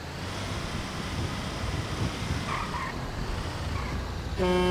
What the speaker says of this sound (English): don't honk at me just because you came in my lane